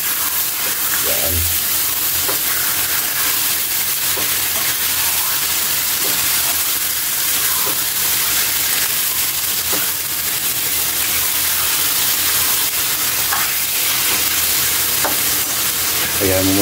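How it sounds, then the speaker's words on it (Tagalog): Banana heart with chicken is stirred as it fries in a pan, producing a loud, unbroken sizzle and hiss with faint scrapes of the utensil recurring throughout. "Halawin lang natin ito."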